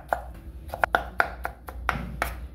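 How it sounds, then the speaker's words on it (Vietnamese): A knife chops tomatoes on a cutting board in a quick, uneven series of sharp taps, close and fairly quiet, with no talking. "Bây giờ mình thái cà chua các bạn."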